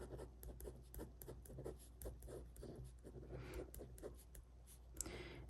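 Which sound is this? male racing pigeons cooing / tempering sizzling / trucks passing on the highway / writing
writing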